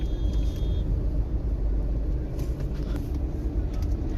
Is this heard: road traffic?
yes